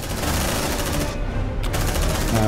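Dense, continuous suppressing gunfire in Aliens: Dark Descent, loud and relentless with overlapping shots filling the whole moment and barely any break.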